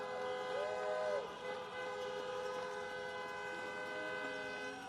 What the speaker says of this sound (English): honk for your next United States Senators, Jon Ossoff and Reverend Raphael Warnock.